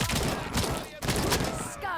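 Rapid gunfire from a heavy-recoil weapon in RoboCop: Rogue City, a few quick bursts of shots at moderate level with game sounds between them.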